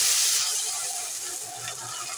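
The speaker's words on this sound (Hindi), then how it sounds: "अब हम पानी डाल देंगे।" Water is poured into a hot pan of fried cumin while cooking red lentil dal, giving a steady loud hiss and sizzle that slowly fades over a couple of seconds.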